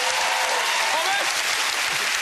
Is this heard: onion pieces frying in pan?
no